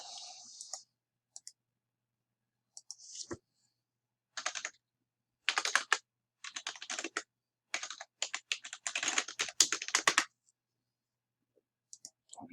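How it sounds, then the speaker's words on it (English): Password being typed on a computer keyboard, heard as bursts of quick, close key clicks separated by short pauses, with no talking. "I might have typed the password wrong."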